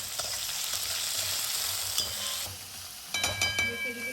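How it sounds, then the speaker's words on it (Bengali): Spices sizzle loudly as they are stir-fried in a pan for a khichuri of rice, lentils and vegetables, with scraping strokes of the spatula near the end. "মশলা কষে এবার ছোকে দিব।"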